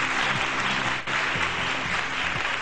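Studio audience applause on a Pakistani morning show greeting a guest: dense, sustained clapping filling the room at moderate loudness, with a brief dip midway and no clear talking over it.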